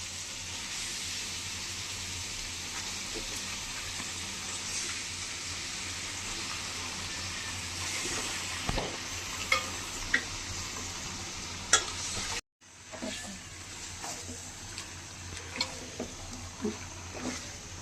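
Duck meat sizzling as it is added to fried spice paste and stirred, a steady close frying hiss with scattered clinks and scrapes of stirring, one brief pause partway through.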